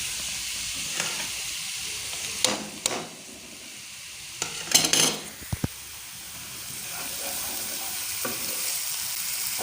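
Green chillies frying in a pan for Hyderabadi chicken biryani, a steady close sizzle with scattered clinks and scraping of a stirring spoon in the middle, no talking.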